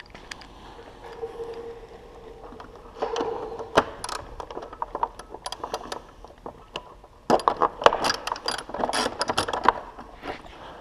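Ratchet wrench clicking as it loosens the headlight assembly bolts on an R6 motorcycle, with bursts of rapid close ratcheting separated by brief pauses and clanks, strongest near the end.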